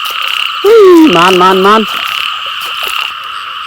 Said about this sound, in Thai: กบมันอยู่นี่น้อง